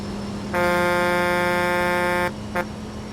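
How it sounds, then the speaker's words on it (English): A loud, brassy truck air horn in the video game Trucking Empire blasts for nearly two seconds, then gives a short second toot over steady background engine noise. "had to use my air horn there."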